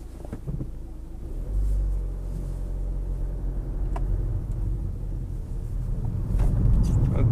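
A 2015 Ford Focus Zetec S starts up and settles into a low, steady engine rumble close by, with a few faint clicks and knocks around it.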